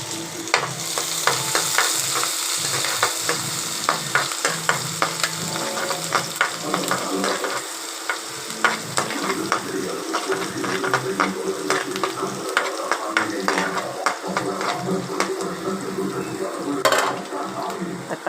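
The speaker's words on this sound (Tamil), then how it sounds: "வெண்டைக்காய், தக்காளி, வெங்காயம் போட்டு வெங்காயம் போட்டுக்கலாம். வெங்காயம் நல்லா வதங்கட்டும்." Okra, tomato and onion sautéing in a pan, a steady close sizzle with frequent sharp clicks and scrapes of stirring running through the whole stretch, no talk.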